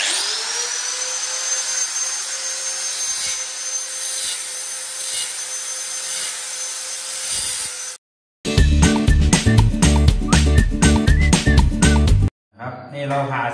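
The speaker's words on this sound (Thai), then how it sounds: "ใช้ตัวนี้ครับหินเจีย4นิ้วนะครับใส่ใบตัดตัวบางแบบนี้" A 4-inch angle grinder fitted with a thin cutting disc cuts steel on a wrought-iron gate, a steady high whine for several seconds, then rhythmic scraping and clanking bursts after a short gap.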